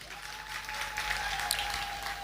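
Audience clapping after a humorous Sambalpuri poem recital about cancer in Bhatli, a steady, moderately loud wash of applause that fills the short span without a pause.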